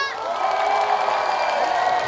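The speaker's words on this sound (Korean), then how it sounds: "청춘을 돌려드린 것 같다고 생각하시면 박수 함성 부탁드리겠습니다" An outdoor crowd at a family walking festival in Jinju cheers and claps after a song, with sustained shouts and whoops held over a steady wash of applause, loud and continuous.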